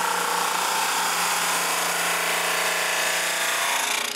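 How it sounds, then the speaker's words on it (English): A drum sander runs steadily on a walnut glue-up, a loud continuous abrasive whir of wood being sanded that holds level for several seconds with no voices. "I take my walnut glue up and sand it straight."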